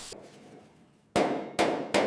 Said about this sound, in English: Hammer and dolly work smooth, wavering edges where old movement stretched the metal.